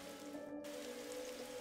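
Rain falls on a rooftop in the video game The Darkside Detective, a steady soft hiss with a low hum beneath, with a brief dropout partway through.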